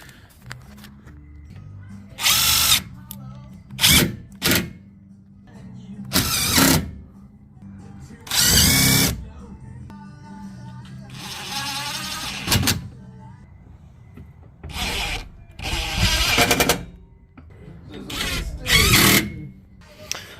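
A power drill drives screws into the dust panel under a Ford Fusion 2.0 EcoBoost Titanium, several separate loud whirring bursts of one to two seconds with quiet pauses between them, close to the mic.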